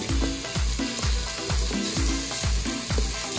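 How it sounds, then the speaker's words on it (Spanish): Rice sautéing in olive oil with onion and garlic, a steady close sizzle broken by repeated rhythmic scraping strokes of a spoon against the pan, loud and continuous without talk. "Mi aceitito de oliva para empezar a sofreír"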